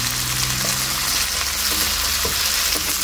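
Chopped aubergine, red chilli and capsicum frying in a pan, a loud dense sizzle close by with a low background hum and faint stirring taps.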